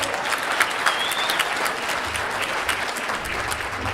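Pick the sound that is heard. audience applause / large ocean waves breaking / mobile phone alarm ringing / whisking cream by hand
audience applause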